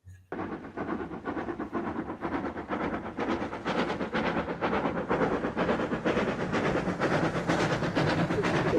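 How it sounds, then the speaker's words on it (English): A real steam train runs past in a 1980s British film opening, its rhythmic chuffing and clattering wheels beginning abruptly and continuing loud and steady without speech. "Ah, the sight and sound of real steam."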